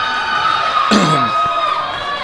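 Crowd noise rolling through a gym at a Division II high school wrestling sectionals tournament, a steady murmur swelling briefly into a louder cheer near the middle before settling back to a broad hum.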